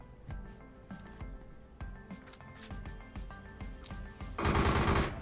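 Gunfire in the mobile battle game PUBG Mobile, a series of sharp, evenly spaced shots roughly every half second with ringing tails, ending in a loud, dense burst of noise.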